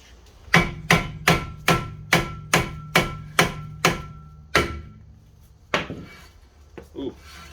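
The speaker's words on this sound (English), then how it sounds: "Let me go get a hammer." Hammer strikes on a brake rotor of a 2002 Kia Optima LX during a brake job, about ten evenly spaced metallic bangs followed by a few slower, heavier hits, loud and close with ringing decay.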